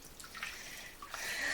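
Water splashing and trickling as a baby's head is rinsed of soap during a bath, a short, soft close wash with a brighter gush at the end.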